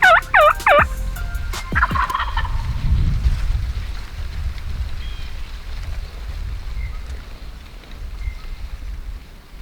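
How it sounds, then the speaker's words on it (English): A wild turkey tom gobbles in a burst of rolling calls at the start of a spring bow hunt, near and loud over steady wind and low rumble, then the rest stays quiet apart from faint distant birds. "behind her, there was a gobbling tom"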